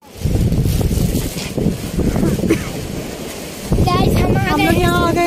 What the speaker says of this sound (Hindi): इतना अंधेरा है यहाँ पर समंदर नजर नहीं आएगा, लेकिन इसकी आवाजें सुनाई देंगी